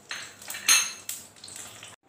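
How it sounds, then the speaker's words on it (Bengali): Dried red chillies and whole garam masala go into hot oil in a pan for a poppy-seed chicken curry, giving a few close metallic clinks and a short hiss as the spices hit the fat, then quiet. "আর দিয়ে দিচ্ছি 2-3 শুকনো লঙ্কা, আর কিছুটা গোটা গরম মশলা।"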